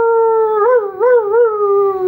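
People mimic a dog's howl during a yoga class: a sustained, loud, wavering howl with rising and falling pitch bends near the middle, carried for about two seconds.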